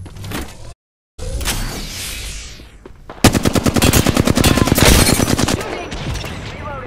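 Rapid automatic weapon fire in Apex Legends on Xbox One, a dense, loud burst of evenly spaced shots lasting several seconds after a brief cutout and scattered earlier sounds.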